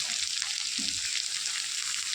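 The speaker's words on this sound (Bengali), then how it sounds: "এরপর দিয়ে দেবো এর মধ্যে উচ্ছে আর বেগুনগুলো।" Bitter gourd and eggplant fry in a pan with a dense, even sizzle that holds steady throughout, close and moderately quiet, with a faint low knock early on.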